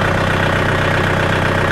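A Kubota MU 4501 4WD tractor engine idles after starting, a loud, close, steady low rumble with an even knocking pulse and no voices over it.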